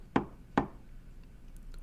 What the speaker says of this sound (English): There's a knock on the door.